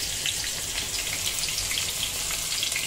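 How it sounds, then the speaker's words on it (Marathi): Finely chopped chillies hit hot oil and sizzle steadily at close range, a dense, even crackle with scattered pops that runs without a break and with no voices. "तेल तर गरम झालंय, मिरच्या टाकायची बारीक कापलेल्या"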